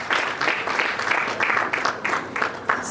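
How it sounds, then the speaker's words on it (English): An audience applauds at a literary prize shortlist event in Port Harcourt, with close, uneven bursts of clapping and a few scattered sharper claps. "I think LNG deserves an applause."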